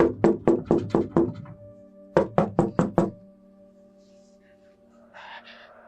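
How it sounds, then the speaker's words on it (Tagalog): Knocking on a door, a quick series of five or six loud, close raps, a short pause, then another run of five, followed by quiet. "Maya-maya pa'y may kumatok sa pinto."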